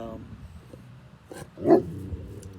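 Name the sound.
dog barking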